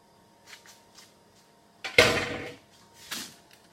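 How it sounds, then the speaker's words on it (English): Drained macaroni is stirred into browned mince in a pan, giving a few soft scrapes and light knocks, then two louder clattering scrapes of utensil against the pan a second apart. "so we just want to stir this in"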